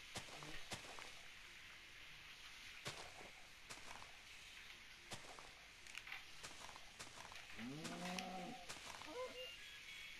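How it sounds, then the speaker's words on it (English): In a video game, a cow gives a short, faint, distant-sounding moo near the end, heard over soft scattered footsteps and clicks with no talking. "Cow, come to me."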